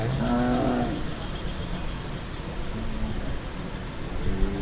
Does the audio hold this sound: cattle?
yes